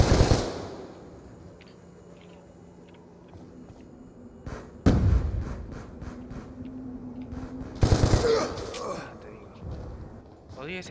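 Gunfire in Call of Duty: Black Ops II multiplayer on PC, loud sharp bursts at the start and twice more a few seconds apart, with quieter in-game ambience between, under a player talking.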